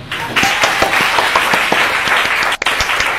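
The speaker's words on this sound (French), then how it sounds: "On acclame Jésus" A church congregation applauding and cheering during a service, a dense, steady wash of clapping with scattered sharp claps and crowd voices, dipping briefly near the end before picking up again.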